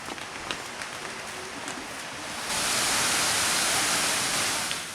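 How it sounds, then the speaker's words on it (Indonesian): A waterfall about 15 meters high, fed by two springs and falling over moss-covered natural stone, gives a continuous rushing roar that grows louder and denser halfway through. "Air terjun ini tingginya sekitar 15 meter, dengan perpaduan batu alam yang diselimuti lumut hijau."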